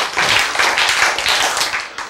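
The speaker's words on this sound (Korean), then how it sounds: "여러분 박수 왜 쳐요?" Audience clapping in a lecture hall, a close, loud burst of many hands with uneven rhythm that holds steady for about two seconds.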